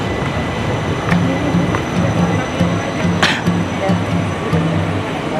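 Interior of a light rail (LRT) train in Jakarta during boarding, with a steady loud rumble of the carriage and station, brief high chimes or squeals, and scattered nearby passenger voices.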